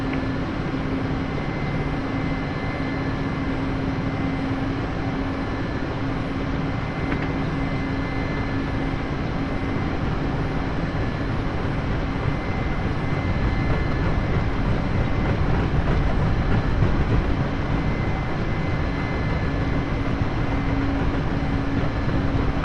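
A Mi-8MTV2 helicopter's engine and rotor drone steadily in a DCS flight simulation during a hover before a vertical landing, a loud continuous turbine whine and rotor rumble with no talk.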